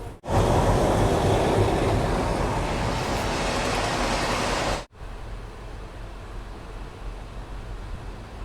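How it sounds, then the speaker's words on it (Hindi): Saharsa–Samastipur passenger train running on a rural line, a loud, steady close rumble and rush of the carriage that cuts off abruptly, leaving a quieter continuous background rumble. "अपनी वाली पैसेंजर ट्रेन अलौली जा रही है"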